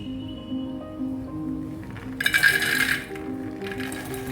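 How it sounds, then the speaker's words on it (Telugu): Dried black-eyed peas pour into a bowl in a brief, bright rattling rush, then a shorter second trickle, over a low steady background hum. "ఇప్పుడు అలసంద గింజల్ని ఒక గిన్నెలోకి వేసేసుకుందామండి"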